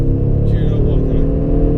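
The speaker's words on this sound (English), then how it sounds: "I'm going to have to concede that noise of that exhaust is something else." Mercedes-AMG C63 S exhaust accelerating, a deep, loud, steady engine roar heard close up, with a brief higher whine rising over it midway.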